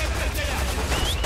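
Gunfire in the video game Resident Evil 6, a rapid burst of repeated shots in quick rhythm, loud and up close in a short stretch of gameplay.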